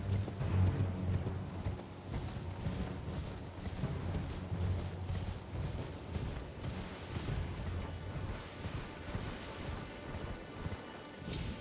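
A horse gallops in the video game Elden Ring, its hooves pounding in a fast, steady, rhythmic clatter for over ten seconds at a close, even loudness.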